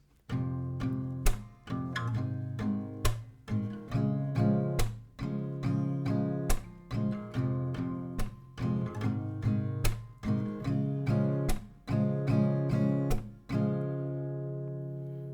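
Acoustic guitar strummed in a steady rhythm, the chords shifting every couple of seconds, with sharp strum attacks ringing out close and clear, no voices.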